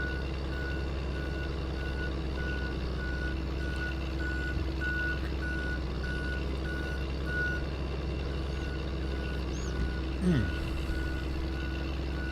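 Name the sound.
tow truck reversing beeps in video game Farming Simulator 22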